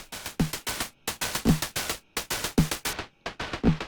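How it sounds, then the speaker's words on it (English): 909 drum kit run through digital distortion, the same four-bar pattern of punchy kicks and hats now gritty and crunchy with harsh, fizzy highs, loud and rhythmic with no voices. "But if digital distortion is the sound you need"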